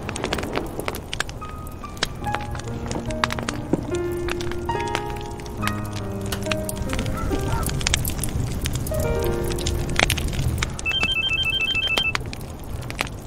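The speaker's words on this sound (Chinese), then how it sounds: "我给他打电话问问" A phone ringtone plays a melodic tune during an outgoing call, repeating steadily at moderate volume with faint footsteps in the background.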